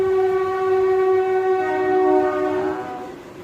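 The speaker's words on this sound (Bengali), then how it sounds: "ট্রেন যাচ্ছে? তুমি ট্রেনের আওয়াজ পেয়েছো?" A passing train sounds a loud, sustained horn, a steady harmonic blast that shifts slightly in pitch, over a low rumble of rolling wheels and no voices.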